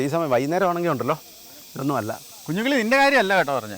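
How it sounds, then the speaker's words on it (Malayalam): Cicadas in the Sabarimala forest give a steady, shrill insect drone that runs continuously beneath people talking nearby. "ചീവീട് കരയുന്ന ഒച്ച കേട്ടോ."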